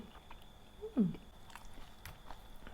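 Someone bites into a crisp, sweet date palm fruit, giving one close crunch followed by soft chewing, quiet with faint background noise.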